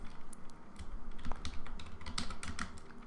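Typing on a computer keyboard, a quick, irregular patter of close key clicks and taps that continues throughout with no voices.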